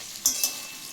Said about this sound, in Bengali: ভাজাভুজি চলছে